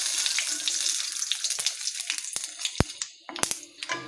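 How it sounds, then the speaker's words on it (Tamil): Cumin and fennel seeds dropped into hot oil in a kadai crackle and sizzle up close, with sharp pops and spitting bursts over a hissing bed. "இப்போது சீரகம் சோம்பு ஆட் பண்ணிக்கலாம்."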